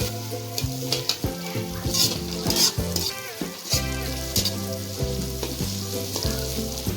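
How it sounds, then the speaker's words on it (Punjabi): Potatoes and cauliflower with onions roasting in a hot pan for homemade aloo gobi, a continuous loud sizzle broken by repeated scraping and stirring strokes, no voices. "ਹੁਣ ਅਸੀਂ ਇਹਨਾਂ ਨੂੰ ਵੀ ਚੰਗੀ ਤਰ੍ਹਾਂ ਭੁੰਨਾਂਗੇ ਜੀ"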